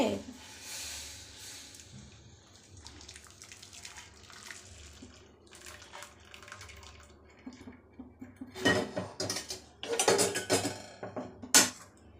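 Melted jaggery for ragi pudding is strained with metal utensils, giving scattered clinks and scrapes of pots and spoons. They grow louder and more clustered near the end, with quieter stretches between.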